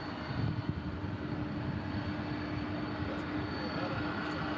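Jet engines of an MD-11 airliner at DFW airport, a loud steady broadband roar with a faint tonal whine, continuous and fairly close throughout, with people talking underneath.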